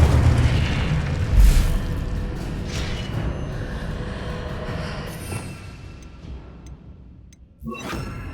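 Incendio, a fire spell in Hogwarts Legacy, goes off as a loud booming burst with a rushing roar that fades over several seconds, and a sharp impact arrives near the end.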